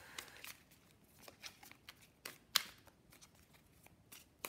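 Tarot cards are handled close up: quiet, scattered papery flicks and slides, with one sharper snap partway through, all soft against a low background.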